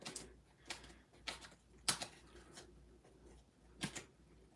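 Scissors cutting papercraft pieces close by, a quiet series of sharp snips spaced roughly half a second to a second apart in a faint, otherwise quiet room.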